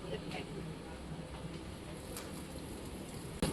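Steady heavy rain pours around a train leaving a railway station, a dense continuous hiss that holds level throughout, with faint rail noise beneath and a brief louder burst at the very end.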